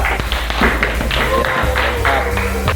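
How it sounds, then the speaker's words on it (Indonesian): A class of students claps together in a steady burst of applause lasting a few seconds, fairly close and loud, with faint voices mixed in, in a junior high school classroom. "tepuk tangan untuk kelompok 3"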